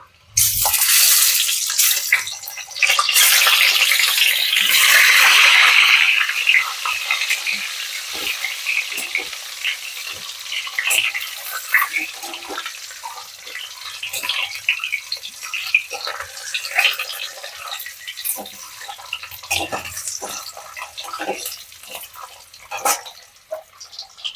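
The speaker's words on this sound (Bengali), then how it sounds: "খুব বেশি ভাজবো না, আমি হালকা করেই ভাজবো। এবার আমি ডিমগুলোও দিয়ে দেব।" Eggs fry lightly in a pan with oil for a Bengali egg posto dish. A loud, close sizzle with crackling spits rises at first, then settles into a steadier, softer frying hiss.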